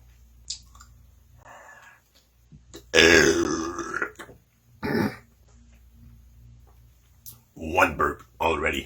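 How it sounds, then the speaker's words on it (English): A loud, drawn-out burp follows a sip of Pepsi Blue soda, with a few shorter belches and throat sounds after it, close to the mic in a quiet room, and someone talking briefly between them. "One burp already."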